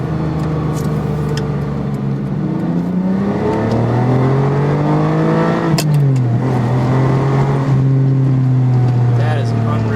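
A 1999 Ferrari 550 Maranello's V12 pulls hard under acceleration, a loud, smooth engine tone climbing steadily through the gears with a brief shift dip, heard from inside the car with a voice speaking over it.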